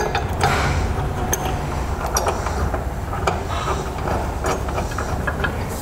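Hitch bracket bolts and hardware are fitted to the frame of a 2007 Toyota Tundra during a B and W fifth wheel hitch installation, with scattered metallic clicks, clinks and creaks over a steady background hum.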